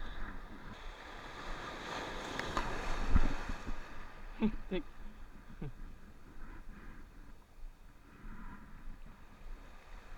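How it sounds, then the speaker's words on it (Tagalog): Big waves wash around an ocean fishing spot, a broad rushing surf sound mixed with wind buffeting the microphone, swelling and easing across the stretch with a few sharp splashes. "Laki ng alon."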